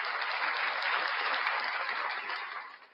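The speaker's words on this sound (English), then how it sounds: "Round of applause for KFAR, everybody." Audience applause for a breakfast show's guest, steady dense clapping that holds loud for about two seconds and then fades out toward the end.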